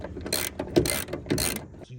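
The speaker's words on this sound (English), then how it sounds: "Get these bolted up and draw it all in nice and tight" Bolts on a DIY van hightop base being drawn up tight, heard as a brief run of close ratchet clicks in several quick bursts.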